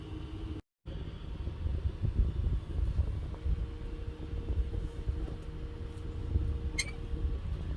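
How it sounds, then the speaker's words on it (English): A 3D printer and a fan running together on a workbench, a continuous low mechanical whir and rumble with faint stepping tones, steady and moderately quiet throughout with a brief dropout near the start. "I've got a 3D printer going next to me, so apologise for the noise, and a fan, still hot."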